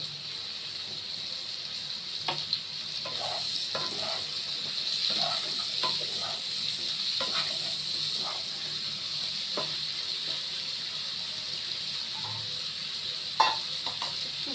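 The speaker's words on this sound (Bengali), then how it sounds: "ভাজা ভাজা হবে, তারপরে মশলা দেবো।" Turmeric, with salt, sizzles in a hot pan, a steady hiss under scattered scraping and tapping of the spoon as it is stirred, close and moderately loud, with no talking.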